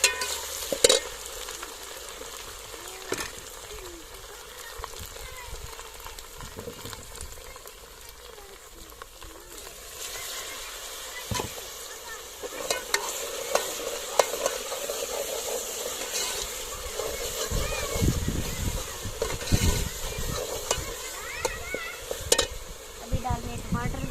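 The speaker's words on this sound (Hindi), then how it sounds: "इसको थोड़ा सा भूनेंगे।" Raw spice paste fries in a pan with a continuous crackling sizzle and occasional stirring scrapes, growing denser and louder partway through, heard up close.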